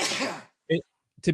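A single sneeze bursts out close and loud at the start, followed by a couple of short voiced sounds.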